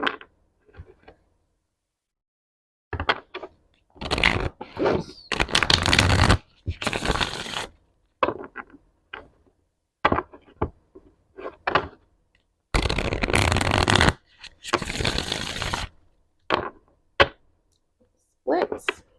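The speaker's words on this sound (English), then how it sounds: "Shuffle." Sci-Fi Tarot card deck being shuffled by hand in repeated riffling bursts of papery flutter and slaps, separated by short pauses, close and fairly loud with no talking.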